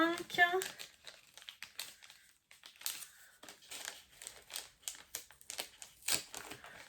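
Paper crinkles and crumples in bursts as an advent calendar window is opened, close and fairly quiet, with brief soft voice sounds near the start.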